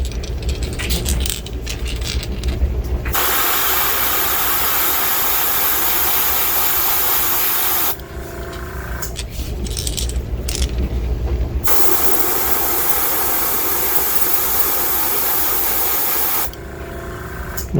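An airbrush sprays only air onto a fishing lure, giving a loud, steady close-up hiss in long bursts separated by short pauses.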